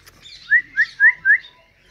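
Four bright rising chirps come in quick succession from small birds calling near a peacock. They are close and clear, with a little faint background noise and no voices.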